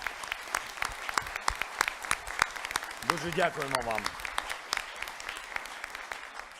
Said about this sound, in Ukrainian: І це точно заслуговує оплесків нашим хірургам.